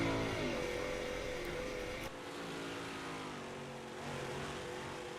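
358 modified race cars on a dirt track in a sim racing game roar steadily at mid distance, engine drone rising and falling with an abrupt cut partway through, no one speaking.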